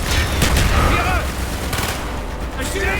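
Rapid gunfire bursts from the video game Black Ops, loud and continuous, mixed with explosions and battle noise, with shouted voices in the background.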